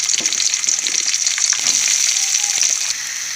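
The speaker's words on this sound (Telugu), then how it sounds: "ఉల్లిపాయలు బాగా ఫ్రై అయిన దాకా వేసుకోవాలి పచ్చిగా ఉంటే టేస్ట్ మాత్రం బాగోదండి కొంచెం ఉల్లిపాయలు బాగా వేగనివ్వాలి" Onions sizzle loudly in hot oil in a pan with a bright, continuous hiss, broken by the occasional scrape and light tap of a spatula stirring them.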